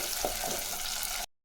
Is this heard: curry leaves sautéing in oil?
yes